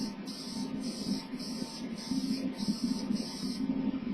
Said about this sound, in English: I'm going to come back in and just do a light mist.